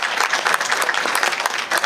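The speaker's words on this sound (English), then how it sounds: "So if I could get a round of applause for those folks." Audience applause for the monthly sponsors at a business speaker series event, a steady dense wash of clapping that holds evenly through the short stretch without any talk.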